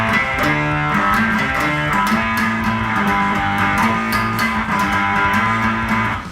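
Markbass synth bass effect on a bass guitar in a Castrovalva rig, a buzzy, filtered synthetic bass line of sustained pitched notes with a steady, thick drone, loud and close with no talking.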